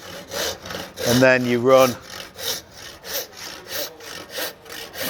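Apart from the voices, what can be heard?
handsaw cutting tenon cheek in timber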